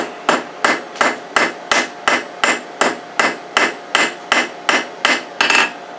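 Hot steel struck with a hammer on an anvil while drawing out a flat taper for a forged coiled candle holder: about fifteen loud, evenly spaced ringing blows, close and steady, with no voices.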